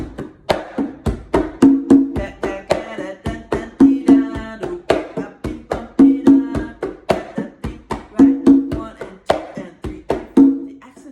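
Drum pattern of sharp hand-struck hits alongside a repeating pitched tone, looping in a syncopated Cuban-style rhythm, loud and close with no talking.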